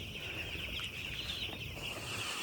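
Young chicks inside a poultry farm chirp and cluck in a continuous, fairly faint chorus over a low background hum, with no talk.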